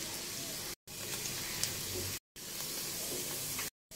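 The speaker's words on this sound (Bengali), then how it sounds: "এখন আমি পেঁয়াজটাকে ভালো করে ভেজে নিব" Chopped onions fry in hot oil with garlic and two or three dried chillies, giving a steady, close sizzle and hiss broken by a few abrupt silent gaps.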